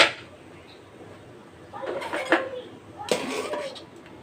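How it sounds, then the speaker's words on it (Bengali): A metal lid is set onto a pot of cooking masoor dal, giving a few close clinks and rattles of metal on metal, with a voice murmuring faintly in the background. "এরপর আমি ঢেকে দেবো ঢাকনা দিয়ে সিদ্ধ হওয়ার জন্য"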